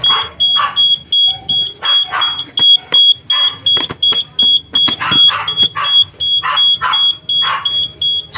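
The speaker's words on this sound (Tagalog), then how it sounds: "Ito yung pinaka-buzzer natin." A motorcycle turn-signal buzzer, fitted with a cover over it, beeps in a steady rapid rhythm of short high tones, still clearly audible over a constant background hiss and repeated noise bursts.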